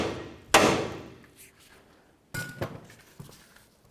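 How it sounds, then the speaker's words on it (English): A hammer strikes the upper ball joint nut on a 2007-17 Ford Expedition's front suspension, giving one loud sharp metallic hit followed by a few fainter clanks and knocks, then another strong hit at the end. "now we're going to give this a loving bonk with our hammer as well"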